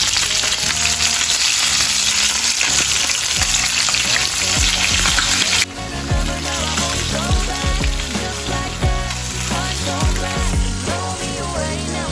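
Food frying in a pan gives a loud, steady, close sizzle throughout, with stirring scrapes and clatter of a utensil layered over it.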